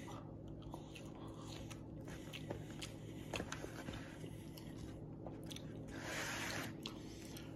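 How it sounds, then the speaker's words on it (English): Close, quiet crunching and chewing of Applebee's french fries, with soft irregular bites and mouth sounds over low room background noise. "Let me try the fries."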